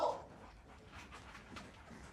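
A dog whimpers and whines in soft, high yips over a faint background, heard in a scene from the Chernobyl TV series.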